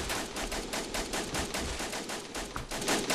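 Rapid automatic machine gun fire in the Iron Europe war video game rattles out in dense, continuous bursts, loud and close throughout.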